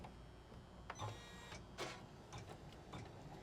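An embroidery machine stitches placement lines for a haunted village design: a quiet, steady mechanical whir with soft repeated ticking of the needle, heard alone.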